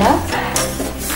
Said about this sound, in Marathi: त्याला ढवळत राहायचे आहे